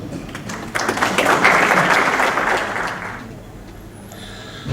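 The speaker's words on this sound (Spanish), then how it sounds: "Lo recibimos con fuertes aplausos." Audience applause at a law seminar in Arequipa greeting a notary, a steady wash of clapping rising after a moment, holding for about two seconds and fading out.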